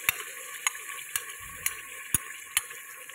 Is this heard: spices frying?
yes